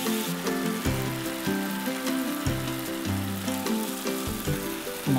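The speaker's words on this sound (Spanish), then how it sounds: "En ese mismo aceite sofreímos a fuego lento el puerro y la cebolla, cortados en daditos" Diced leek and onion fry gently in oil over low heat with cooked tomato, giving a close, continuous sizzle with soft bubbling pops and no voices.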